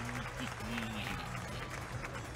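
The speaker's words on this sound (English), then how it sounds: "Crowd goes wild for Nobi." Crowd at a Tekken World Tour tournament in Melbourne cheers loudly and steadily throughout, a dense roar of voices with shouts mixed into the noise and no clear break.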